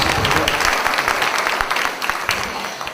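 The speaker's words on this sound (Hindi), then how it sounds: "एक बार ताली वाली बजा।" Audience at a Hindi poetry recital (kavi sammelan) in Dhamtari, Chhattisgarh, clapping in a dense burst of applause that tapers slightly toward the end.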